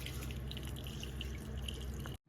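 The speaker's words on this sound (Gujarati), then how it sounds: "જરૂરિયાત મુજબ આપણે પાણી નાખીશું।" Water poured into jamun pulp in a pan, mixed with black salt and sugar, comes as a steady, close trickling splash for about two seconds, then stops abruptly.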